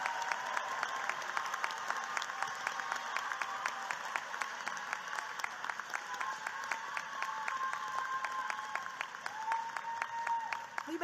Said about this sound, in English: let's give these scholars one more round of applause for this significant accomplishment